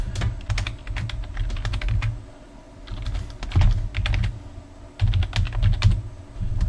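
Fingers tap out an email address on a computer keyboard in bursts of rapid, close clicks, with short pauses between runs of keystrokes.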